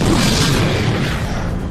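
A deep, loud boom bursts out and rumbles briefly in a stop-motion animated Transformers film, a single broad explosion that fills the moment and slowly fades.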